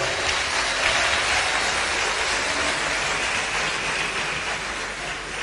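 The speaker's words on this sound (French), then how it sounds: "qu'on peut applaudir très fort" Audience in a hall applauding loudly for a guest of honour at a formal official ceremony, a dense, steady wash of clapping that fills the whole stretch with no talk over it.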